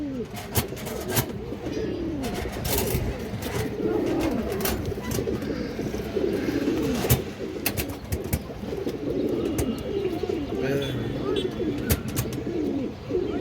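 Several pigeons, including female birds, coo in low, rolling bursts, overlapping continuously, with occasional sharp clicks and taps nearby.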